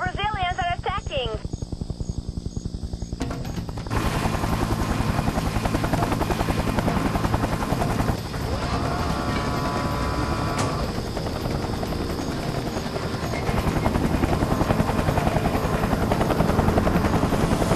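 Approaching helicopters in the video game Raven Squad, a loud continuous rotor roar that builds and stays close after a brief opening of tonal sounds, rising again near the end with faint voices mixed in.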